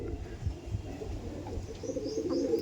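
Andhra pigeons cooing softly at close range, low murmuring calls repeating over a steady background murmur with a few faint higher chirps.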